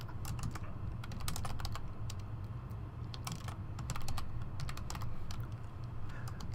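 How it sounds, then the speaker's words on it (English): Rapid keystrokes clatter on a computer keyboard in irregular bursts, fairly close and continuous over a low background hum, with no voices. "I'm also like typing it out as in the chat as well."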